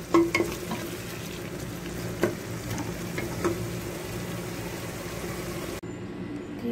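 Potatoes fry and sizzle with yogurt in a pan, a steady close crackle broken by a few sharp clinks of a stirring spoon, with no talking.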